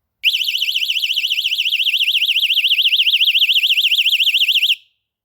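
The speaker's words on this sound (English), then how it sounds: "the attack alarm is just a sort of simple thing, sits in your pocket, you buy it from the shop and you pull the pin out" A piercing electronic personal attack alarm wails continuously for about four seconds, rapidly warbling up and down in pitch, loud and close, then cuts off abruptly.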